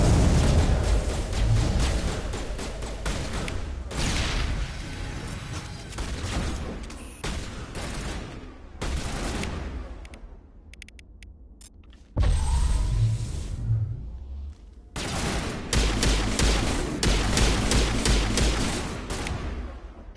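A running gunfire battle in Mass Effect Legendary Edition, dense rapid shots and bursts layered with booming impacts and rumbling blasts, loud and close, pausing briefly before resuming in heavy volleys.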